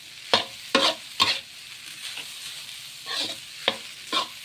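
Salted fried rice with two eggs being stirred in a hot pan, a spatula scraping in sharp repeated strokes over a soft steady sizzle, close and alone with no talking.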